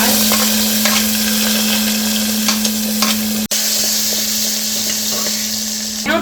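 Chopped onion sizzles and spits loudly in hot oil as a tadka with asafoetida, cumin, ginger and green chilli, a close, continuous frying hiss with occasional stirring scrapes and a brief clatter midway.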